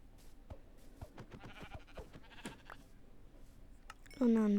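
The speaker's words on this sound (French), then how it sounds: "J'ai les 2 petits moutons." Two small sheep in a survival video game: after a stretch of quiet talk and light clicks, a single loud, close bleat rings out near the end.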